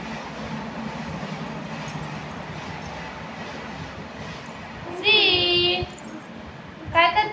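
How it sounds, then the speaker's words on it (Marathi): A low, steady rumble of a passing train, fairly distant, with a voice breaking in briefly near the end. "ट्रेन आली पळाली पळाली"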